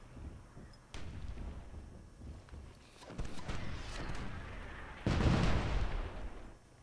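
Dwarven mortars firing artillery shots in the video game Myth II Soulblighter, several muffled booming blasts at irregular intervals, the loudest burst near the end, at moderate volume.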